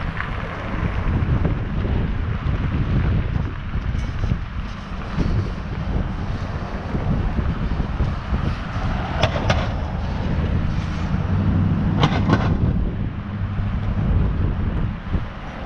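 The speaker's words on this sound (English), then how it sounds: "It's a bit blustery down on the Water Street here" Blustery wind buffets the microphone on a harbourfront street in St. John's under an overcast sky, a steady low rumble with gusts running throughout, no talk heard.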